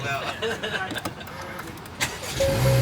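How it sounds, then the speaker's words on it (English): A Honda Civic engine cranks and catches near the end, rising into a steady low idle after a few clicks and rustles, with people talking nearby. "Oh, actually, start the car."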